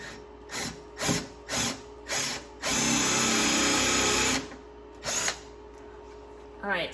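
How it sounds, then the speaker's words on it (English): Power drill boring holes for a custom bookcase, with several short bursts followed by one longer sustained run, then another brief burst, close and loud, with some talking between. "All right, time for drilling."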